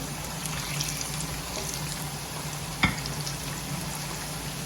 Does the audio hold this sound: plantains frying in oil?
yes